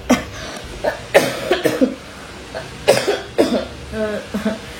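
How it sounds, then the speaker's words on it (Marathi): A woman who is unwell coughs in short, rough bursts at close range, several coughs spread across the moment, some grouped in pairs, with a little throat clearing and faint voice sounds between them. "आतां तरी सुद्दां म्हाका मदीं खोकले येता"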